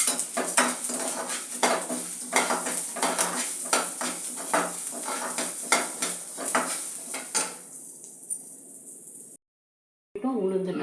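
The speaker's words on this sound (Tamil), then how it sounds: "இப்போ உளுந்து நல்லா வறுப்பட்டுடுது." Black urad dal being dry-roasted in a pan, a metal spoon scraping and clinking against the pan in a rapid, repeated rhythm over a soft sizzle, close and loud, then a brief silence and a short burst of stirring.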